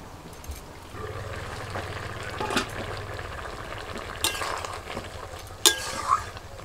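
Broccoli going into a covered pot of boiling potatoes: a soft steady bubbling simmer with scattered clinks and bumps of the lid and utensils, fairly quiet and close.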